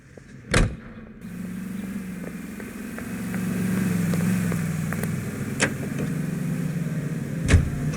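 A car driving in LA Noire: steady engine hum at moderate level with a few sharp knocks and clicks over it, no voices.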